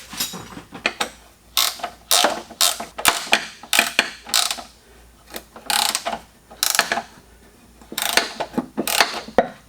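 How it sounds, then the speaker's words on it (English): A ratchet wrench tightens the mounting bolt of a vise fitted to a receiver hitch, giving loud, close bursts of rapid clicking separated by short pauses. "we'll get a ratchet wrench for that top"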